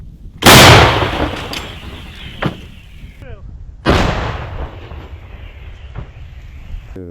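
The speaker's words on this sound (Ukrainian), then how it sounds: "Постріл!" Two powerful booming blasts from a captured D-20 howitzer, a few seconds apart, each followed by a long rolling echo; a faint voice calls out briefly.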